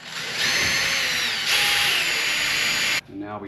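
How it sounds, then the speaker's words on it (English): Power drill boring holes for handles on a converted closet door, a loud steady whine held for about three seconds with a brief pitch shift midway, then stopping abruptly into quiet room noise. "I drill my hole here and drill my hole here."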